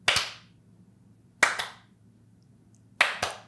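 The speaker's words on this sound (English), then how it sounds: "Let me just see what it's like to have a slow clap" Three slow, evenly spaced hand claps about a second and a half apart, each sharp and close, with no speeding up between them, over a quiet low hum.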